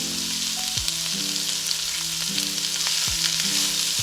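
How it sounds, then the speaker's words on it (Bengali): Shredded cabbage stir-fried in a hot pan for restaurant-style mixed fried rice, a loud continuous sizzle with regular scraping strokes of a spatula about once a second, close up and without speech. "বাঁধাকপি দিয়ে আমি একটু নেড়ে দিচ্ছি"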